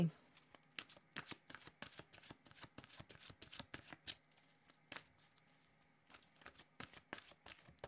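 Oracle cards shuffled by hand in a dense run of quick papery flicks and snaps, close and soft, continuing steadily with brief pauses between bursts.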